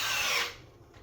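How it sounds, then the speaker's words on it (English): A power drill bores through a wooden batten into the old wall of a cottage, a loud, close whirring grind for about half a second before cutting off and fading into quiet. "then you just simply take your drill"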